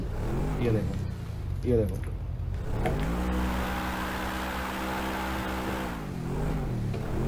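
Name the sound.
Defender off-road car engine running in video game GTA V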